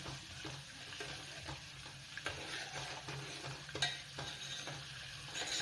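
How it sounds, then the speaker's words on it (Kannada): Butter boils and sizzles in a pan as it cooks down into ghee, a steady close crackle broken by light utensil clinks and stirring, with no talking. "ನೋಡಿ ಕುದ್ದು ಕುದ್ದು ಅದು ಬೆಣ್ಣೆ ಹೋಗಿ ತುಪ್ಪ ಆಗಬೇಕು"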